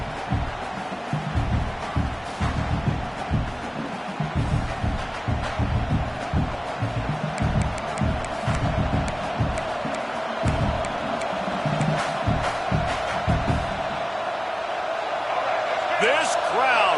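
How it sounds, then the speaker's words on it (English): A stadium crowd roars steadily throughout a college football video game between Clemson and North Carolina, a dense, loud wall of noise with thumping impacts and a commentator talking over it. "This crowd, full throat, splitting the eardrums"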